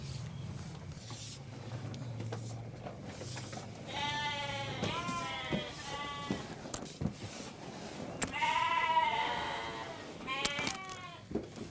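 Sheep bleat on a village livestock farm where goats and chickens are also kept, several wavering calls rising out of quiet rustling background, with a louder burst of bleats near the end.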